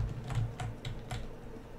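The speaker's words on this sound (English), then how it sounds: "Kitty, get off my keyboard." A cat treading across a computer keyboard, producing a short run of soft, uneven key clicks and thumps, close and fairly quiet.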